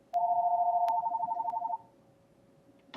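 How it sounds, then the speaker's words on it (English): A phone rings with a steady electronic trill, a sustained warbling tone lasting about a second and a half, clear and fairly close in a quiet room, then cutting off. "Okay, phone is ringing."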